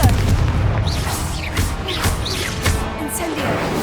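Confringo spells explode in Hogwarts Legacy, a string of heavy booms about every half second, mixed with whooshing magical streaks and crackles.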